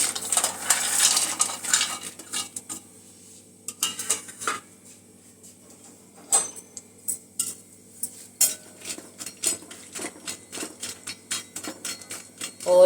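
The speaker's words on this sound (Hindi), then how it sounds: "कलर चेंज होने तक इनको तल लेना है घी में" Almonds, cashews and walnuts frying in ghee in a pan, with a soft sizzle under repeated close scrapes and clinks of a spoon stirring against the metal.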